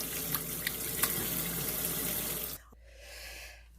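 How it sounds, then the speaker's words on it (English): A bowl is rinsed out under running tap water, a steady close splashing rush for a few seconds that stops abruptly, leaving a faint quiet tail, with no talk. "And you want to rinse out the bowl"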